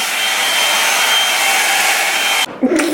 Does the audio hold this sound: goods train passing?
no